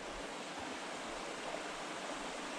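A high mountain stream in a forest rushes steadily with dense, even hiss and no voices, close and continuous.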